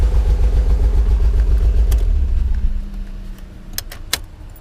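A Nissan 300ZX engine idling with a loud low rumble, then shutting off about halfway, leaving quiet followed by a few sharp clicks and a key jingle.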